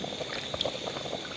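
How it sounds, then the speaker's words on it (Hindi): Water comes to a boil in a pot of haleem, with a steady bubbling simmer and small irregular pops rising close by over a continuous hiss. "इसमें उबाल आ चुका है।"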